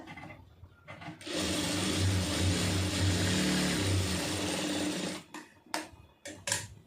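A sewing machine runs steadily for about four seconds, stitching around the edge of doubled fabric, with a whirring motor and a rapid needle rhythm close by. The run stops abruptly, and a few short handling clicks follow.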